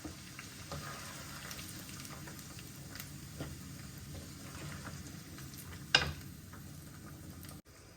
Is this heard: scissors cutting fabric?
no